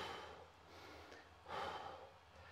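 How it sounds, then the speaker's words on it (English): A person breathes slowly and deeply while stretching in a sauna, with soft drawn-out inhales and exhales, one stronger breath standing out, faint and close with no talking. "And the breathing is also getting trained."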